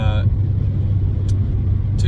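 Road rumble and steady low engine drone heard from inside a moving car on a long drive, loud and constant throughout, with a couple of brief higher noises.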